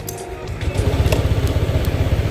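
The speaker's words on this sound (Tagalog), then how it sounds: "Alright, so mo ni ang iyang tingog sa yang makina guys." Honda Click 160 keyless scooter engine idling close by, a low, steady putter that settles into an even rhythmic pulse after a brief start, with a few faint clicks over it.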